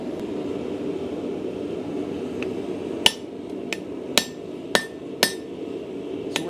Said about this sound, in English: So we're gonna hammer down